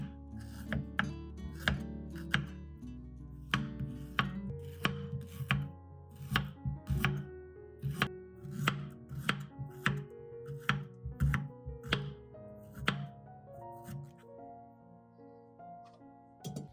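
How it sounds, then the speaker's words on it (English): A knife slices fresh ginger into thin, even pieces on a cutting board, giving steady repeated chops with a crisp attack in a fairly regular rhythm. The chopping is close and moderately loud over a soft musical background. "then slice evenly about 2 to 3 millimeters thick for easier drying and mold prevention"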